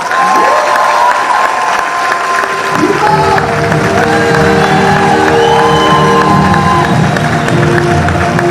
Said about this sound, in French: On laisse applaudir très fort